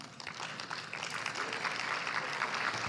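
A crowd at a fair housing community conference applauds, steady dense clapping that swells slightly and continues throughout.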